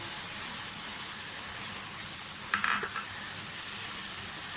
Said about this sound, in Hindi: सबसे पहले ये प्याज डाल दें, अनियन।